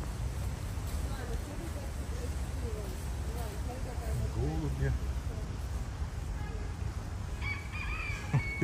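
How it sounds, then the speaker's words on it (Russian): Roosters crowing and pigeons in the Sochi Arboretum park in winter, faint calls carried over steady outdoor background noise with a few people talking nearby. "Петушки, голуби."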